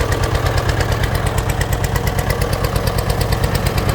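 A Fordson Major tractor engine, freshly fitted with an exhaust, runs at a steady idle nearby, loud and close, with an even rhythmic knock and chug throughout.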